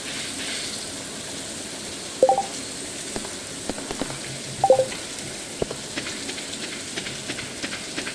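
Rain falling in the farming video game Stardew Valley, a soft steady patter with a few sharper chimes and clicks scattered over it, no talking.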